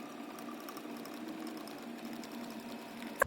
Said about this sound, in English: Simply place the pump in there, extract the old fluid out.